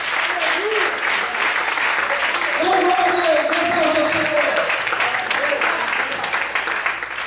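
Steady applause from a church congregation at an evening service rolls on continuously while a preacher's voice speaks over it and worshippers call out.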